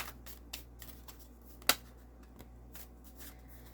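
Oracle cards are shuffled by hand in a quiet room, giving soft papery riffles and light flicks with one sharper snap partway through, and no talking.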